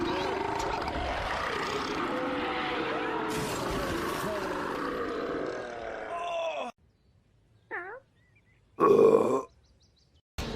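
Cartoon burping during a burping contest: a long, loud, groaning belch rumbles for several seconds, then stops abruptly, followed by two short bursts of cartoon voices and effects.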